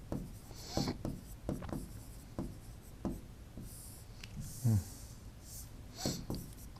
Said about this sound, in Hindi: या सिसोदिया लिख लेता हूँ